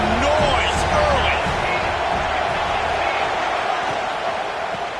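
Dense stadium crowd roar at a college football game between Arizona State and Auburn, a loud steady wash of voices throughout with a commentator talking over it.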